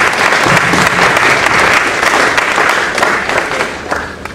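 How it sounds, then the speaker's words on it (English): An audience at a finance and investment summit in Ghana claps steadily, a dense, loud round of applause that holds for several seconds before easing slightly. "I think they deserve a round of applause."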